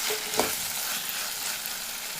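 Ghee-laced tomato bath mixture being stirred in a frying pan, a steady close sizzle with a brief scrape of the spoon early on, no voices.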